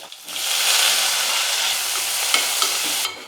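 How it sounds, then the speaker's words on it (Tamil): Onions, curry leaves, cumin and garlic cloves sizzle steadily in a hot pan, a loud, continuous frying hiss with faint stirring scrapes and no voices. "பாருங்கள் வெங்காயம் வந்து நல்லா வதங்கிடுச்சு"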